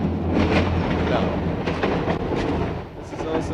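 A train passes by on public transport tracks in Rome, a loud continuous rumble with rattling wheel noise that swells and lingers close by.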